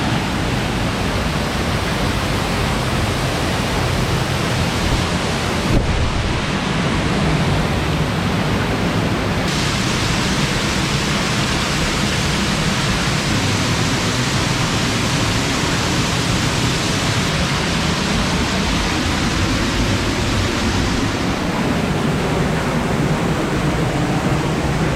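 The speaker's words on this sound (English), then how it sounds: "We're gonna go right behind the waterfall" The Glenwood Springs waterfall roars as a constant, loud, full-bodied rush, heard from behind the falls with no voices over it.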